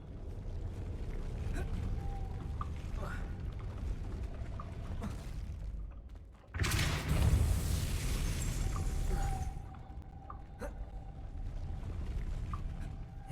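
A Depulso force spell cast in a Harry Potter game lets off a sudden loud whooshing burst, like a rushing blast of air, that swells and fades over a few seconds against a quiet ambient backdrop.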